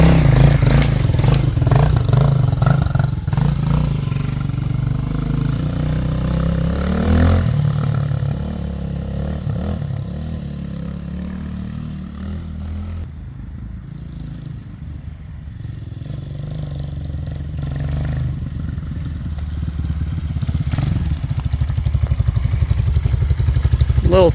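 Honda Hawk X 250 motorcycle with a counterbalanced engine, close and steady: a smooth idle with a few throttle revs that swell and ease back, no voices over it.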